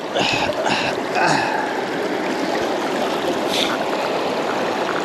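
A river current flows steadily at a micro fishing spot, giving a continuous close rush of water throughout, with brief voices near the start.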